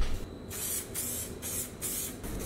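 Aerosol spray can misting tinted clear paint onto chrome headlight parts, heard as several close, loud hissing bursts of about half a second each with short pauses between them.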